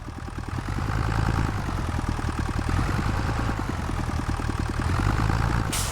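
A tractor engine idling in Farming Simulator 25, a steady low rhythmic chug that stays loud and even throughout, with no voices.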